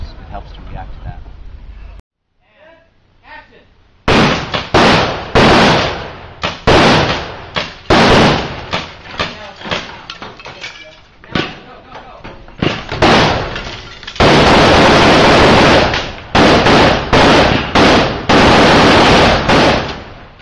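Gunfire on the Hawaii Five-0 television set rings out in loud, sharp bursts: single shots and rapid strings of rounds, near and harsh, with a brief lull early on and people talking between the volleys.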